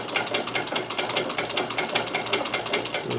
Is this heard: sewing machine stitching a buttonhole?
yes